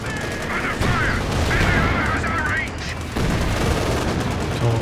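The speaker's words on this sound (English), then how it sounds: "cheeky heavy barrage out the back there" Heavy artillery barrage in Company of Heroes 2, continuous rumbling explosions and gunfire under a busy battle din, loud and sustained with brief dips.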